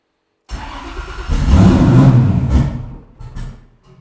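A cheap V8-swapped Porsche 911 now running twin turbos fires and revs hard for a couple of seconds, a loud, close burst of engine roar that rises, holds, then drops off and sputters out as if the engine falters.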